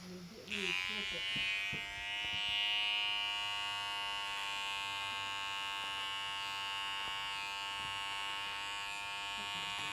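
An electric seam ripper buzzes in a steady, high, droning whine as it cuts out a quilt seam, starting after a brief moment and running unbroken to the end, close and clear.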